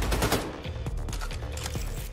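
A shotgun fires in Wolfenstein: The New Colossus: a few loud, close booming blasts in quick succession. Game clatter and rumble fill the gaps between shots.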